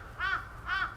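Two crows caw on a warm afternoon in Japan, two distinct harsh calls half a second apart, fairly close and clear.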